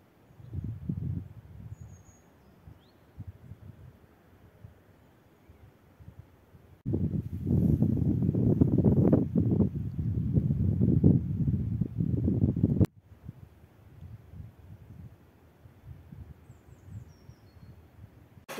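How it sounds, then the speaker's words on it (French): Wind gusts outdoors in a natural setting, low rumbling buffets against the microphone that swell into a strong sustained blast midway before easing back to lighter gusts. "Mais il fait du vent."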